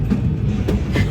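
A toy train in a festive department store produces a brief, close, steady rumbling clatter with a soft rhythmic clack, filling the whole short moment without any voices.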